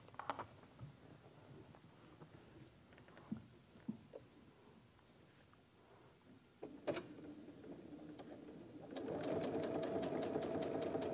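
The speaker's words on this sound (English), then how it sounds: "I'm just gonna make sure I stitch right over that X and it should be just right." A sewing machine stitches a flying geese quilt block. Faint handling taps and clicks come first, then the machine starts a steady, close mechanical whirring run through the final seconds.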